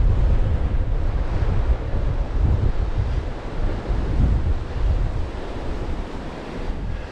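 Strong headwind roaring across the microphone while riding a Triban RC500 road bike on a road, a dense, steady low rumble of wind buffeting that barely lets up for the whole stretch, with no talking.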